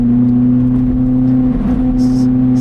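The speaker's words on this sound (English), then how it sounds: "Downshift, let the engine brake a little bit." Lotus Elise engine braking after a downshift on a public road: a steady, droning engine hum heard from inside the car, constant and fairly loud, with no talk over it.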